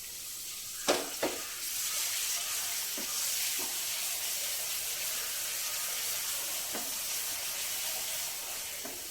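Finely chopped onions sizzle in hot oil in a pan for a Telugu mutton drumstick curry, a steady close hiss with a few sharp clinks from stirring.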